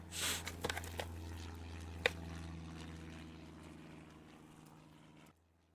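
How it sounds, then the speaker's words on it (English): An airplane passes overhead near a field auction of farm equipment, a low steady engine drone that holds for several seconds with a few faint clicks before cutting off abruptly. "this plane flies by again"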